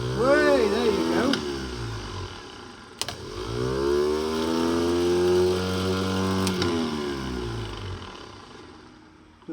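Land Rover starter motor run on a bench, whirring up loudly and holding a steady rising whine before winding down, with a couple of sharp clicks and crackles of sparking contacts.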